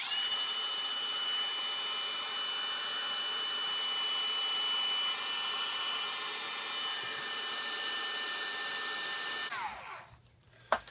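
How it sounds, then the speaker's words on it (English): A heat gun blows steadily at close range while drying embossed craft paper, a constant whirring hiss that runs for about nine seconds before switching off and ending in a brief clunk. "So I'm going to use my heat gun"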